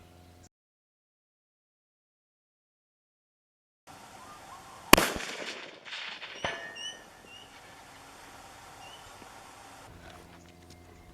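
A rifle fires at a 400-yard target outdoors: one sharp, loud crack breaks the quiet, followed by a few fainter echoing pops and a low rumble that fades away.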